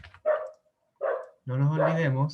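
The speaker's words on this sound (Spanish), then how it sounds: "¡Uy, el perrito!" A small dog barks twice in quick, short yips indoors during a lecture, followed by a longer voiced whine or bark, close and fairly loud, with no talk over it.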